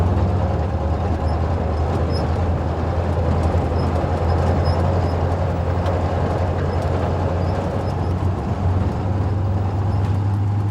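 A truck engine runs with a steady low drone and rough mechanical rattling as the driver struggles to get it into gear, continuous and close.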